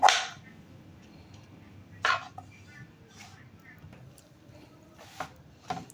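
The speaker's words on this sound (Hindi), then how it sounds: "ये मैं गावा काट रही हूँ।" A knife chops guava into thick pieces on a board, a few sharp, isolated cuts spaced seconds apart with quiet kitchen room tone between them.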